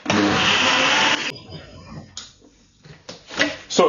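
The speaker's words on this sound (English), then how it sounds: "let's seal up our blender jar, and then of course next now is blending it" A blender whirs at full speed for about a second while blending a milky drink, then stops, leaving quieter clatter and handling noises afterward.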